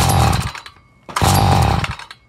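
A small two-stroke string trimmer engine roars to life loudly, runs for about half a second and quits, then fires and dies again in a second short burst.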